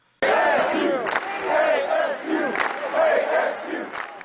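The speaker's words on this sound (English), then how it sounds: "Man, that student section is loud." A large basketball student section crowd roars and chants loudly in rising and falling waves of shouting, close and continuous after a quiet start.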